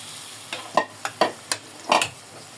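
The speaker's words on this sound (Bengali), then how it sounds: "এগুলো এখন কষাবো ভালো করে" Coconut masala for a coconut hilsa dish being sautéed in a pan, with five or six distinct close scraping stirs of a spatula over a faint background and no talk.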